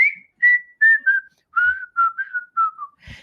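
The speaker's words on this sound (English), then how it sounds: "He fixed one or two of the whistle parts" A whistled melody from a studio recording, with part of it touched up by another whistler: a clear, solo tune of about nine sustained phrases sliding gently downward, close and prominent, ending with a brief rustle.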